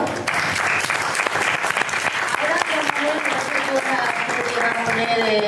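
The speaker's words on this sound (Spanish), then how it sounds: "Pido un fuerte aplauso para Juan Manuel," An audience gives Juan Manuel strong, sustained applause, loud and dense, with voices rising through the clapping.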